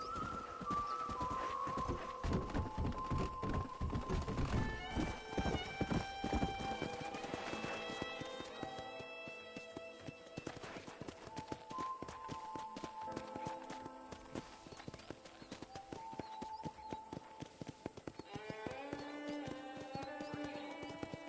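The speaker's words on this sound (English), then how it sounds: "let's see if you can still ride a horse" Horse hooves clip-clop at a steady pace amid Red Dead Redemption game ambience, with birdsong and tonal music-like chimes layered over the rhythm.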